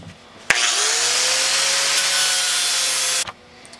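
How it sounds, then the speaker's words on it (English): Power sander grinding smooth a welded tip on a vintage screwdriver, one continuous loud steady whir of a little under three seconds that starts and stops abruptly, close up and without any voices. "Now we're going to sand her down smooth so that the handle will fit back up."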